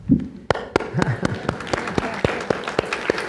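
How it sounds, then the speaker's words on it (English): Scattered audience clapping in a lecture hall after a question, individual sharp claps spaced roughly every quarter second rather than a full ovation, with a few faint voices at the start. "that applause was also for the question"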